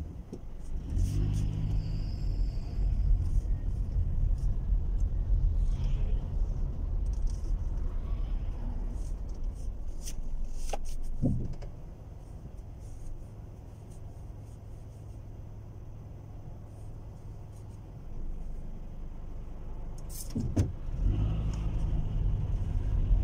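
Steady low engine rumble from inside a car crawling through road traffic toward a roundabout in Luton, UK, with occasional revving and passing vehicle noise, continuous and close.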